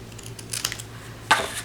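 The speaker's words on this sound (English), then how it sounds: "I'm just going to use a scissor." Scissors cutting paper for a Christmas folio craft project, a couple of quiet crisp snips close by, with a brief sharper cut near the end against a low background hum.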